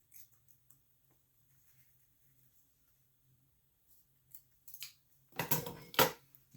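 Scissors trim the tag ends of a leather pouch cord beside a fire: after near silence with faint ticks, a few sharp close snips come in a quick cluster near the end.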